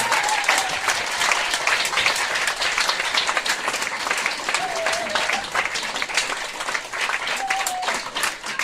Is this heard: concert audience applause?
yes